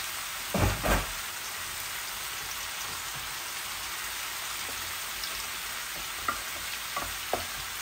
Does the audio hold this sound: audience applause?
no